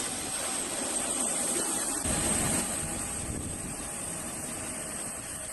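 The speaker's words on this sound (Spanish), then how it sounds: "el arribo de del primer avión de la Fuerza Aérea Mexicana" Mexican Air Force airplane arriving after a refueling stop in Canada, a steady broadband engine roar that swells slightly around the middle and holds at a constant loud level throughout, with no talk.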